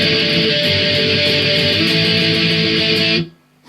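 Distorted electric guitar plays a verse part, a dense, loud and steady strummed run of power chords that cuts off sharply near the end, with no voice.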